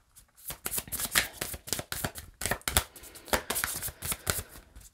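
Tarot cards are shuffled close by in quick riffling bursts, a steady series of sharp papery slaps and flutters with brief pauses between handfuls, no voice over them.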